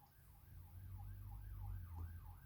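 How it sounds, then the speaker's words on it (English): A wailing siren rises and falls in quick, regular sweeps, fairly faint and distant over a low traffic rumble. "I don't know if you can hear the siren."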